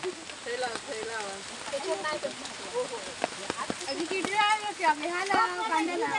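Steady rain patters throughout while people talk over it, the broadband hiss of falling water running beneath their voices.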